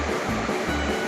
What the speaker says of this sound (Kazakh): Су деген күшті болып ағып тұр мына жерде.